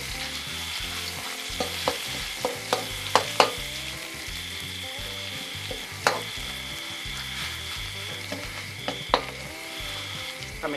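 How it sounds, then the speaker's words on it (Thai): Red curry paste stir-fries in hot oil for a pork belly jungle curry, a steady close sizzle broken by sharp scraping clicks of a spatula against the pan, with no voices. "นี่ครับผมก็จะใส่พริกแกงลงไปนะครับเป็นพริกแกงเผ็ดนะครับใส่ลงไปผัดนะครับ"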